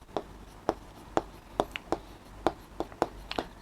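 A pen or marker writes on a board or paper in a quick series of sharp taps and short strokes, close and fairly quiet, with no talking.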